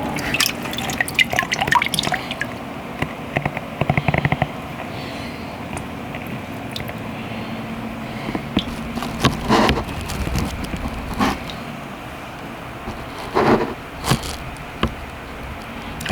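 Water sloshes and drips in a gold pan being swirled outdoors, with irregular splashes and trickles, some louder bursts, and quieter stretches of gentle movement.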